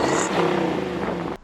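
A 1996 Camaro SS engine revs hard through an SLP exhaust with a raspy roar that holds steady, then cuts off abruptly near the end.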